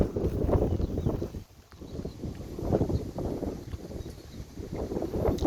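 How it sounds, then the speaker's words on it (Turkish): Strong wind buffets the microphone in heavy, continuous low rumbling gusts that swell and ease throughout, loud and close. "çok rüzgar var. Bu rüzgarda çatıda oturamayız."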